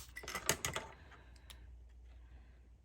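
Scissors snip quickly through a traced paper mat, with a brisk run of crisp cuts up front, then a few sparse quieter snips fading out.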